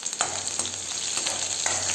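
Mustard seeds, dried red chillies, curry leaves and crushed garlic sizzle in hot oil for a home rasam tempering, a quiet steady frying hiss with faint scattered pops and stirring.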